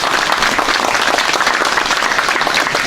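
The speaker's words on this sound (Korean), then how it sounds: "박수로서 격려해 주시면 고맙겠습니다." Loud, dense applause from an assembled audience at a commemorative event, a steady wash of many hands clapping without pause.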